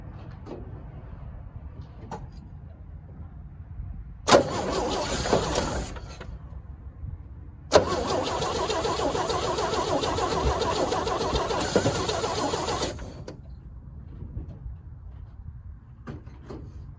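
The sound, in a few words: 1965 Chevrolet C10 truck engine cranking and starting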